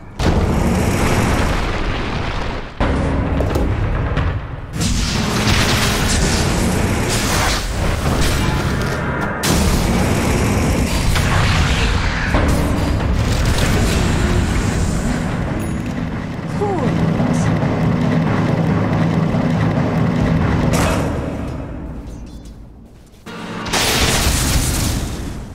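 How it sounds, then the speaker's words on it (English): Dota 2 match in which the Dire middle tower comes under attack, with loud, dense booms and bursts of game combat running almost continuously, and a voice talking over the battle. "Dire's middle tower is under attack."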